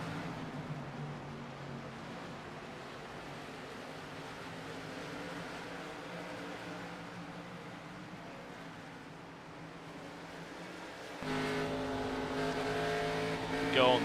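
Stock race cars racing at Bristol in an ARCA Series event, a continuous engine roar under commentary that swells louder near the end as cars pass close.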